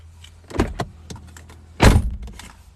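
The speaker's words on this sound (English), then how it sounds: "Oh, forgot to turn my car off." Inside a car, the engine is switched off amid a series of sharp clicks and thumps, a jingle of keys, and then a loud close door slam, followed by smaller clatters.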